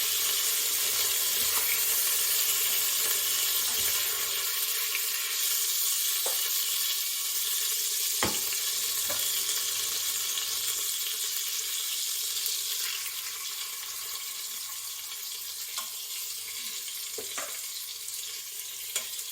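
Chicken searing in an Instant Pot, a bright steady hiss of hot fat filling the clip with a few sharp pops and crackles, close and continuous with no voices.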